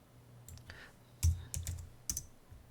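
Keyboard keys pressed on a computer while modelling a heart-shaped box in Fusion 360, heard as a few soft, separate clicks and taps, near and quiet, with no voice.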